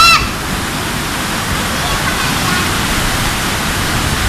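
Strong water current surging where a river meets the sea, a dense, steady roar of rushing water that fills the whole span at close range, with a brief higher tone at the very start.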